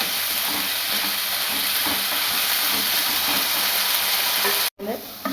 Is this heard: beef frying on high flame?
yes